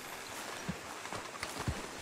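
Hollow hoof clops from a horse in the video game Red Dead Redemption 2, a few scattered steps at an easy walking pace, close by over a steady background hum.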